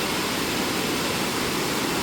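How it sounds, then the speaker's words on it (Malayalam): A small waterfall in the Banasura Sagar hills, near the back side of the dam, swollen in rainy weather, gives a loud, steady, close roar of rushing water with no voices. "വലിയ വെള്ളച്ചാട്ടമല്ല, മഴയൊക്കെ ആയി വരുന്നതുകൊണ്ട് ഇറങ്ങാനൊന്നും പറ്റത്തില്ല"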